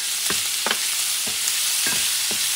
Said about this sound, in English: the sausage, which is cooking inside already